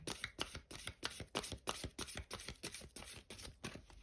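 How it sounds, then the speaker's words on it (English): A deck of cards being shuffled in quick repeated riffles, about a dozen crisp bursts in steady rhythm, close and fairly quiet, no speech. "Okay, do one final shuffle."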